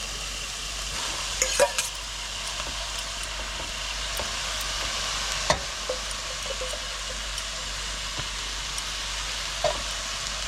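Vermicelli cooks in a pan with carrots and beans, making a soft, steady sizzle broken by a few faint stirring scrapes and light clinks from utensils against the pan.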